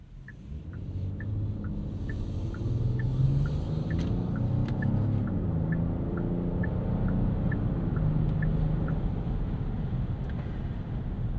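Cabin sound of a 2025 Genesis GV80 Coupe, a 409 hp e-supercharged SUV, accelerating: a low, steady engine rumble rising gently with road noise, while a soft chime ticks repeatedly in the background.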